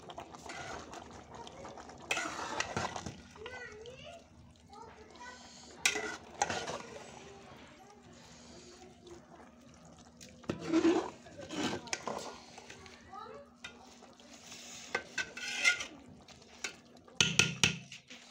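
Vegetable rice (pulao) being stirred in a pot as shredded cabbage and mixed vegetables are folded into partly cooked rice, with intermittent scraping and clinking of a spoon against the metal pot and a few spoken words in between.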